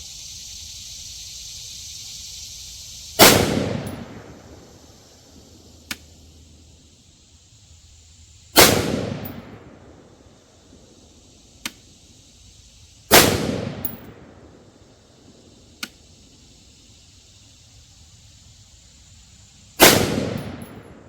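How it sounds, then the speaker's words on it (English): A Davidson Defense Cutlass AR-15 rifle fires 69 grain match rounds outdoors. Four loud, sharp reports come several seconds apart, each trailing off in a long ringing decay, with faint distant pops between them. "I got 5 rounds of Federal Gold Medal Match 69 grain loaded up"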